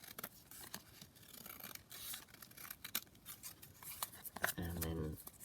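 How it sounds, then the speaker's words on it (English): Scissors trim a large book page for a junk journal pocket, making soft, scattered snips and paper rustles at low volume, with a slightly louder crisp cut near the end. "So now I'm just going to trim it down."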